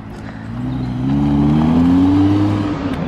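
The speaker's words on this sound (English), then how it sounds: "Nice car, wasn't it? Nice Lamborghini" A Lamborghini sports car drives past, its engine note rising in pitch as it revs and then holding a strong, smooth drone near its loudest point before easing slightly at the end.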